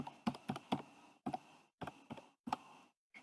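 Keys click in short, irregular bursts as a word is typed on a computer keyboard, close and quiet, with brief pauses between clusters of keystrokes.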